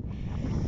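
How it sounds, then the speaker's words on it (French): Steady wind buffets the microphone outdoors on a sandy beach, a close, continuous low rumbling roar with no voices. "encore du vent ce soir"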